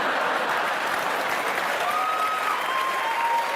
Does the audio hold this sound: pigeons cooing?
no